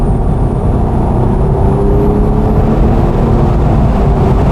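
A Porsche 911 Club Coupe's 3.8-liter engine drones loud and steady through its sport exhaust from inside the cabin, a dense, continuous rumble with a slowly shifting pitch while driving.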